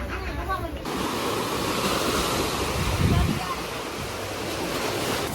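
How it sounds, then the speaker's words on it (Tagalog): Sea waves wash steadily onto a shore, a continuous broadband roar with wind buffeting the microphone and a brief surge near the middle; no speech. "Nandito na pala kami sa dagat."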